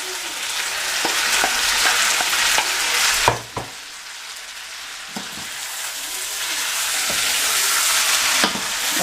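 Onions and chives frying in a pan for a chicken colombo, a steady bright sizzle with a few sharp clinks and scrapes of stirring, broken by a brief lull near the middle before the sizzle picks up again.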